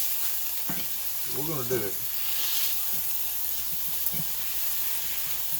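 A beef burger patty of 80-20 ground beef sizzles steadily in a cast iron skillet for a double cheeseburger, a constant close frying hiss with faint pops, and someone briefly speaks over it.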